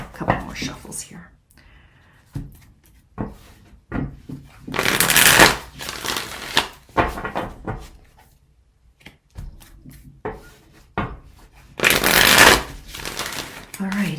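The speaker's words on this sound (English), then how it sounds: "A couple more shuffles here." Tarot cards are shuffled by hand in repeated bursts, two of them loud riffling runs, with quieter handling and soft rustling in between; nobody speaks.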